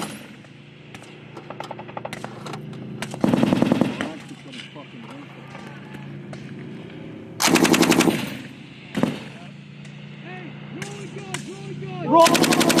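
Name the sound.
M240B machine gun firing at rapid rate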